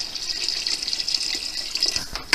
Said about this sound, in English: Now, I get our lovely copper jug that we drink all of our water out of